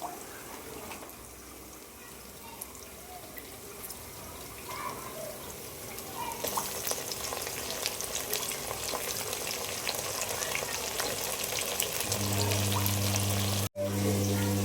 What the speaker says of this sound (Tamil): ஆனியனை நம்ம பொன்னிறமாக வதக்கணும். கோல்டன் கலரில் வர மாதிரி வதக்கணும்.